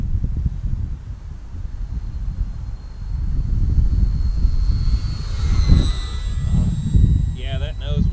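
Arrows RC Bearcat 1100mm model airplane flying in strong wind, its engine drone rising and falling as it turns, with wind buffeting and people talking over it.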